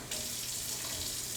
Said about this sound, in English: So the first thing you're going to do is get your hot water going.